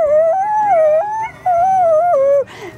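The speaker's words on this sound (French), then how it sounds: "Il y a même le chien en arrière qui fait des..." A dog howls in the background outdoors at the start of a thunderstorm, a long, wavering, mournful tone that rises and falls, pausing briefly before a second drawn-out howl.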